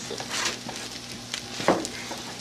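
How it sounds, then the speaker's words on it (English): Fried rice with soy sauce and peas frying in a skillet, a soft steady sizzle with scattered light crackles and a brief louder pop of stirring near the end, close and moderately quiet. "we're going to continue to fry for another probably 2 minutes or so"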